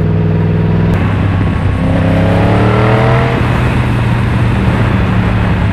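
A Yamaha MT-10 motorcycle engine on a test ride drones loudly up close, its pitch climbing briefly as the rider accelerates before settling into a steady roar mixed with wind.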